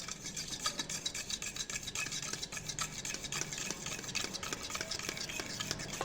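Turmeric, ground coriander and red chilli powder being stirred into a brinjal curry in a pan, a steady close scraping and rubbing of a spoon through the mixture that continues without pause, with no voices.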